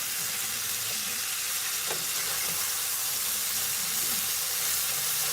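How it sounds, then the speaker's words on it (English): Mixed vegetables fry in fish grease with a steady, loud sizzle and hiss throughout, with occasional faint stirring clinks beneath the constant crackle. "frying up all these mixed vegetables in this fish grease"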